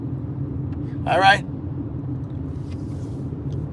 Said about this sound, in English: It's bad enough there's traffic now.